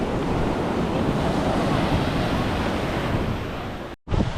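Surf washes steadily onto Cathedral Cove beach in Coromandel, New Zealand, a continuous broad roar of waves mixed with wind buffeting the microphone, cutting out abruptly near the end.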